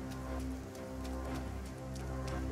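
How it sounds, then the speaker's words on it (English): Steady rain patters on a surface in the video game Sengoku Dynasty, with scattered drip-like taps, over a constant low hum. "it's been raining a lot"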